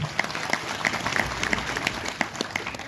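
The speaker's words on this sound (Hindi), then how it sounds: "एक बार ज़ोरदार तालियां बजाएं।" Audience applauding the committee members at an academy event in Kishtwar, sparse and uneven clapping with individual claps standing out over a soft room background, faint voices underneath.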